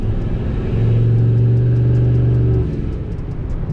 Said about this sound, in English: That cutout is definitely opening sooner.